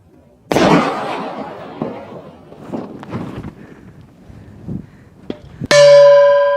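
One sharp, loud firecracker bang under an upturned silver pot opens, followed by scattered clatter and rustling, then a ringing metallic clang near the end.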